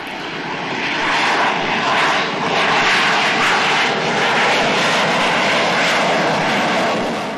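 Loud, sustained roar of Tejas fighter jets flying in formation, a broad steady engine rush that swells and holds across the whole stretch with no voices.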